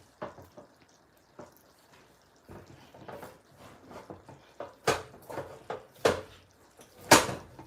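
A spoon scrapes and knocks against a big pot while thick Liberian palm butter is stirred, irregular close clanks and thick squelches that grow louder and sharper toward the end.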